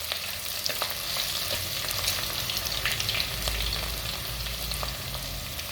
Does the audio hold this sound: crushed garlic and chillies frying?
yes